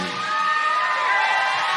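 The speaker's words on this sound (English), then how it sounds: "Y'all give a round of applause to this band right now" A concert audience cheers and whoops loudly for a live band, a brief burst of dense crowd noise with shouting voices mixed into the clapping.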